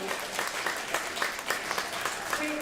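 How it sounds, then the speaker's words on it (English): Applause breaks out at a public meeting on apartment development, a moderate, steady patter of many hands with a few sharper claps standing out, continuing evenly without speech on top. "I didn't hear from the applause"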